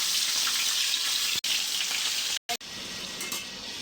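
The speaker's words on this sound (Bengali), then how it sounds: "এখন কি মাংস ভাজবা?" Broiler chicken meat fries in a pan with a steady, loud sizzle that runs throughout, broken by a couple of brief gaps and a short stir.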